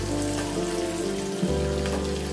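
Whole onions drop into hot oil for a Sri Lankan brinjal moju, giving a steady, close frying hiss with a brief dip partway through, then the sizzle carries on evenly.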